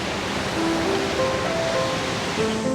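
Huay Kaew waterfall in Chiang Mai rushes with a loud, continuous wash of falling water, steady and close, with faint thin tones drifting over it.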